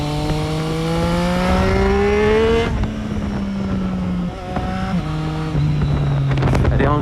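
A 2020 Triumph Street Triple 765 RS motorcycle pulls hard in second gear out of a corner, the engine note climbing loudly before a gear change and then rising again, close and strong throughout.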